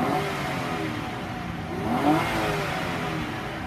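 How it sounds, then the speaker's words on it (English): A 2006 Kia Sportage LX engine revs up steadily in a continuous close mechanical roar, rising slightly in intensity midway with a faint clatter, and no voices. "let me rev it up for you"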